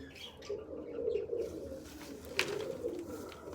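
Pigeons in a home loft coo softly and continuously, a low murmuring drone with no speech, joined by a brief brighter call near the end.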